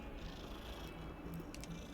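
Quiet, low cat purr in the Hogwarts Legacy video game, a short steady rumble at low volume throughout.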